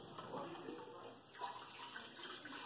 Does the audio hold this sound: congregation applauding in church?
no